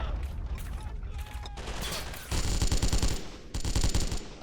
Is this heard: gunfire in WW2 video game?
yes